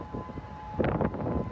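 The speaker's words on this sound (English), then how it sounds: "Sirens could be heard in Honolulu after the earthquake" Tsunami warning sirens sound across Honolulu after an earthquake, a steady wailing tone over a broad rumble of outdoor noise, with no voices heard.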